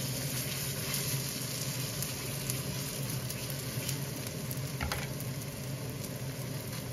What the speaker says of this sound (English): With a little bit oil, the stove turn on very low temperature, cook each side around 1 to 2 minutes until it looks like brownish